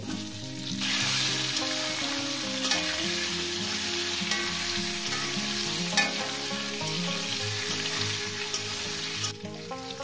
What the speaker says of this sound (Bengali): আর দিয়ে দেবো এর মধ্যে আলু। আলুগুলোকে আমি মিনিট 4 ধরে ভেজে নেব।